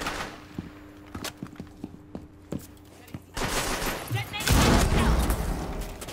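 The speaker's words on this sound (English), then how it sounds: "Who is shooting?" Gunfire in the video game Rainbow Six Siege: scattered sharp thuds and footsteps-like knocks at first, then a sudden loud, dense burst of shooting that swells toward the end.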